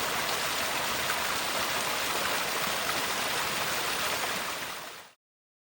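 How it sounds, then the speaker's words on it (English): Stream water gushing beside a hiking trail, a dense, continuous rushing roar that holds steady and close for about five seconds before cutting off abruptly. "This water is gushing like Niagara Falls compared to what we've had."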